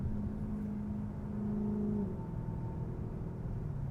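A Dodge Charger V8 engine's deep, steady rumble drones low and loud throughout, holding a constant throaty note with a slight pitch shift midway.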